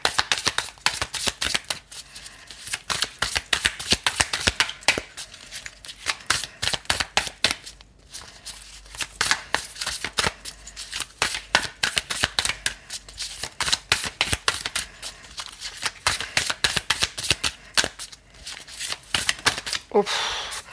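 Thin wooden playing cards shuffled over and over in quick, dense riffles, a crisp flapping clatter that runs almost without a break, pausing briefly twice, with no voices.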